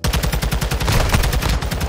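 Rapid gunfire from a snub nose revolver sniper pistol in a video game, a dense run of sharp repeated shots in quick rhythm, loud and close with no talking.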